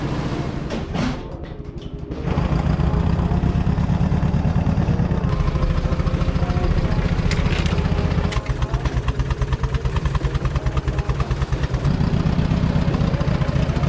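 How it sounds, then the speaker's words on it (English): An old two-cylinder forklift engine catches after a brief start attempt and then runs loud and steady, a close, rough throbbing idle that continues alone for the rest of the clip. "Trying to go get the old 2-cylinder forklift fired up."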